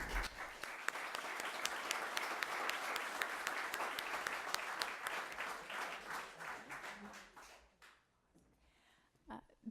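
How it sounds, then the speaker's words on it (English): An audience applauds at a League of Women Voters candidate forum for the 2018 state elections, dense clapping that holds steady and then fades out near the end, followed by quieter room noise. "if I could ask the audience to hold your applause until after everyone is done"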